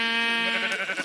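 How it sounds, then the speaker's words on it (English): Sheep in the Pandora's Box mod for a PC game give a single loud, close bleat with a wavering, harmonic-rich tone, alone and lasting about a second. "Ooh, sheep."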